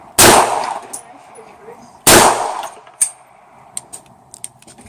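Two loud, sharp Bersa pistol shots ring out about two seconds apart at an outdoor shooting range, each followed by a decaying echo, then fainter distant pops and clicks.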